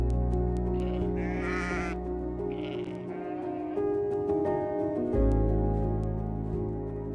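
Sheep bleat on the green cliff-top pastures of the Faroe Islands, several loud, wavering calls close by over a steady low wind rumble.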